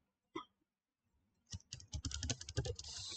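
Typing an expression on a computer keyboard for an AppSheet app: after one isolated tap and a pause, a quick, close burst of key clicks runs to the end, with no one talking over it.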